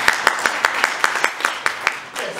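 Audience on a stage at an author meeting in Sobański Palace applauding Mariola, a clear evenly paced run of about a dozen sharp claps, steady and close, fading out at the end.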